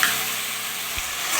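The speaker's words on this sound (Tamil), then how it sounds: "நம்ம ஏற்கனவே கட் பண்ணி வச்சுருக்க ரெண்டு தக்காளி நம்ம இதில் ஆட் பண்ணுறோம்." Tomatoes dropped into a pan of frying country-chicken gravy give a steady, close sizzle of hot oil, broad and even throughout, with a small bump partway through.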